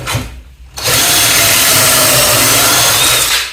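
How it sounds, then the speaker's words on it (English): A loud power drill whirs steadily into wood for about three seconds after a brief quiet start, then winds down, drilling a pocket hole through a jig. "if I want to drill a pocket hole into a piece of wood"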